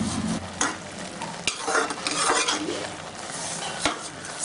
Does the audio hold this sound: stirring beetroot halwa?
yes